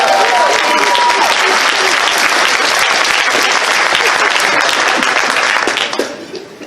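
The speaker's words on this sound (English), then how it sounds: "Give a round of applause." An improv comedy audience claps and cheers in sustained, dense applause that carries on steadily before tapering off at the end.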